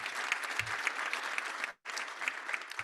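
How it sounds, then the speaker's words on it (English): Audience applause at a Rotary Club of Savannah luncheon, a steady wash of many hands clapping at moderate level, broken by one brief pause before resuming. "Let's give Todd a round of applause."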